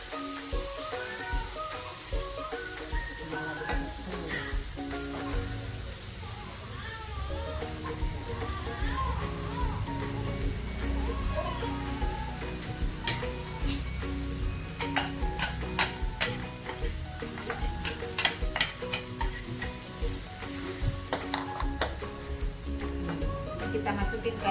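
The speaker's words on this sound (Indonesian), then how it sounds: "Ini cabai yang udah di blender tadi sama jahe sama lengkuas." Blended chili paste with ginger and galangal sautéing for rendang, a steady sizzle with stirring scrapes and clinks, while a person talks over the cooking throughout.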